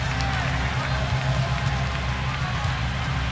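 Basketball arena crowd in NBA 2K17, a steady dense roar of cheering and clapping filling the whole stretch at high level, with no pauses.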